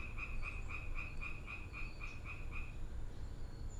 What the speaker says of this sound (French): Elles ne dorment donc jamais, ces grenouilles?